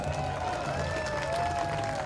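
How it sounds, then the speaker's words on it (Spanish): Audience applause and crowd noise at a Women's Day celebration in Villanueva, a dense wash of clapping with music or tones underneath, brief and fairly loud. "Ese aplauso fuerte para ustedes."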